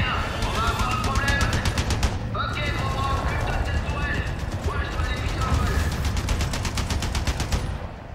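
Rapid anti-aircraft gunfire from the video game Resident Evil 4 rattles in dense, continuous bursts throughout, loud and close, with game sounds layered in and no clear talk over it.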